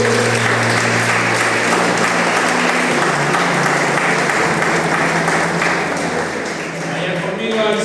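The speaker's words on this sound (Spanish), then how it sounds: "Denle un aplauso al Señor." A church congregation applauds steadily and loudly for several seconds, a dense continuous wash of clapping that eases slightly near the end.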